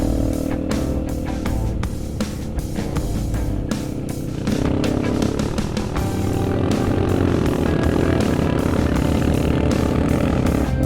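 Motorcycles and other vehicles labour up a steep road in Tawangmangu, a dense, continuous low engine drone that swells steadily louder with no talk over it.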